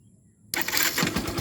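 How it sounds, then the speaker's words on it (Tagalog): A Yamaha SZ/FZ 150 motorcycle engine catches after a push-start fix, bursting from near silence into a loud, steady close-up idle rumble with a rough, uneven chug. "Buhayin natin ang motor."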